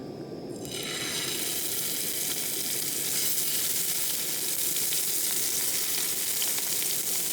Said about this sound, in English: We're going to fry up a bit of wood pigeon, a bit of rabbit, a little bit of herbage.